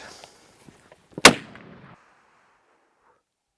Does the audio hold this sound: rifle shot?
yes